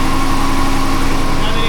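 Car engine idling on its first start after an install, a steady, loud rumbling drone with a constant low hum throughout.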